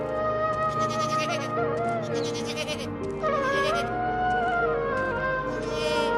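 Goats bleat repeatedly, overlapping wavering cries from several animals close by, continuous throughout.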